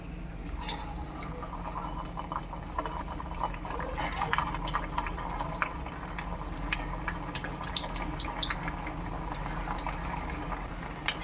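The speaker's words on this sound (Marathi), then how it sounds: "हे गुलाबजाम तळून घ्यायचे तर हा एक एक गुलाबजाम ह्याच्यामध्ये घालून घेते" Khoya gulab jamun dropped one at a time into hot oil over a medium flame, giving a steady bubbling fry with scattered small crackles and pops, moderately loud and continuous throughout, with no one talking.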